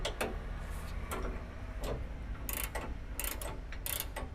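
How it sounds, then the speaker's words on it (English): Ratcheting wrenches work on the bolts and nuts of a rear bumper on a 2017-2022 Ford F-250/F-350. Close, quick ticking clicks come in short bursts with pauses between them. "I like to use 2 ratcheting wrenches, one on the bolt side and one on the nut side"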